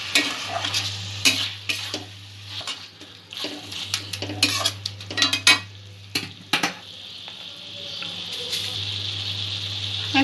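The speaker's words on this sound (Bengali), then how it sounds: "চিকেনটা এর সঙ্গে যোগ করে দেব। ভালো করে মশলার সঙ্গে মিক্স করে নেব।" Chicken is stirred into fried spice masala in a pan, a spoon scraping and clinking against the metal in quick irregular strokes over a constant close sizzle, with no voices.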